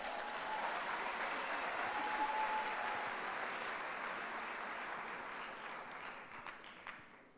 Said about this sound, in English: Won't you give the 150-year birthday celebration choir a round of applause?